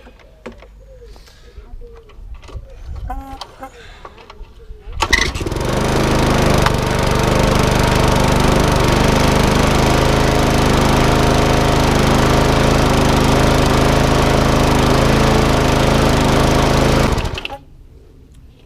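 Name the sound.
petrol lawn mower engine pull-started and running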